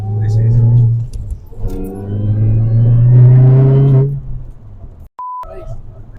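Mini Cooper S R53 engine revving up in strong harmonic sweeps, loud and close, with a brief electronic beep near the end and people talking around it.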